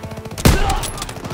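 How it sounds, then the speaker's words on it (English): Machine gun fire in a World War II battle from Call of Duty WW2, a loud sudden burst of rapid gunfire that hits hard and then rings and rumbles on briefly amid the wider fighting. "Open fire! Someone get on the MG!"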